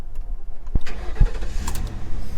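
A Ford Crown Victoria police car bought at a sheriff's auction, with about 127,000 miles and its ignition switch missing, cranks briefly and catches, then settles into a low steady idle close by.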